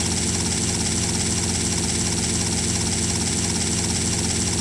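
A helicopter in GTA: Vice City Stories, its rotor and engine producing a loud, continuous, unbroken drone.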